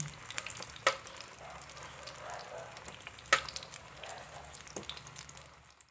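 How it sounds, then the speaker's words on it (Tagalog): Smoked milkfish frying on both sides in a pan makes a soft, even sizzle, broken by two sharp clacks of a spatula or pan, with no voices. "Since na already cooked na, i-fry lang natin siya on both sides."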